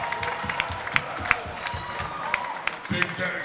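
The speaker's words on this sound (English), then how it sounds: "Give yourself a round of applause" Concert crowd at a metal show in a club applauding and cheering, with scattered sharp claps over a rumbling din and voices mixed in.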